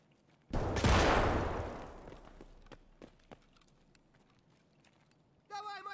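A single loud burst of gunfire in the video game Escape from Tarkov crashes in near the start and its echo trails off over a couple of seconds, followed by scattered small clicks and a brief tonal sound at the end.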